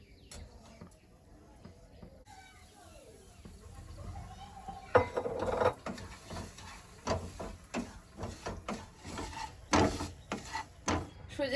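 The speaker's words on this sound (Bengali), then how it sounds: "তো একটুখানি ঘি দিয়ে সুজিটা নেড়ে নেব।" Semolina being stirred with ghee in a pan, with a spoon scraping and clinking against the metal in irregular taps, close and fairly soft, while a voice talks at the start.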